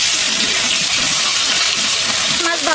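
Khalse fish frying in hot mustard oil in a village kitchen, a loud, steady broadband sizzle that runs continuously with no voices.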